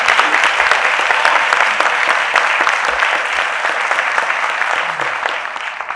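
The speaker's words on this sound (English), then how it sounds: "give a hand clap to these guys for what they're doing." A loud, sustained round of applause from an audience at a city meeting in a church setting, dense clapping filling the whole stretch and tapering slightly at the end.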